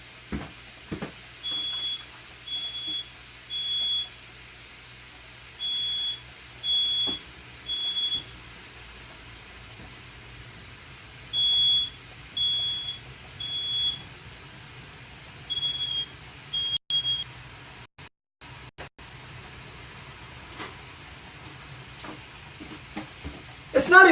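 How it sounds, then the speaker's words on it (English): A smoke detector beeps in a kitchen while chicken cooks, repeated bursts of rapid high-pitched chirps that stop and restart several times, with a person talking between and around the beeping. "apparently my smoke detector is not a fan of my cooking"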